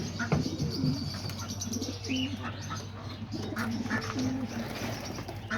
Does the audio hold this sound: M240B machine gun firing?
no